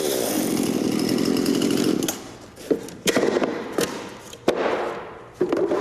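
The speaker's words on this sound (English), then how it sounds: "intent on using his far from precise chainsaw" A chainsaw cuts through plywood sheets, roaring steadily for about two seconds before dropping into a series of short, sharp revving bursts and cuts, loud and close with no talk over it.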